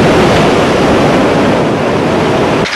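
Tsunami waves surge through the harbour town of Miyako, a loud, continuous roaring rush of churning water with no break, dropping slightly just before the end.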